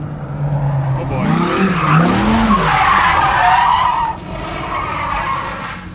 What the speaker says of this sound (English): Right up until the part where you had to make the tires spin.